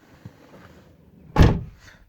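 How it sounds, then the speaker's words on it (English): Self-closing door on a BMW 740i pulls shut with a single solid thunk, preceded by faint small clicks and quiet background noise. "self-closing door, don't like it"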